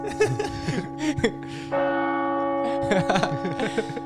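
A church bell rings out and sustains, with bursts of chatter and a chuckle around it.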